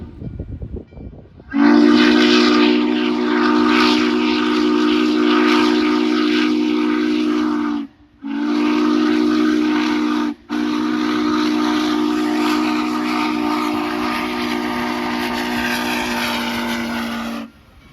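Norfolk and Western 611, a J Class 4-8-4 steam locomotive at Strasburg Railroad, sounds its whistle loud and near in long sustained blasts broken by two short gaps.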